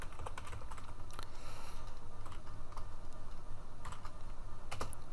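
Prolog code is typed on a computer keyboard in a continuous run of close, crisp keystrokes with irregular spacing and no voice.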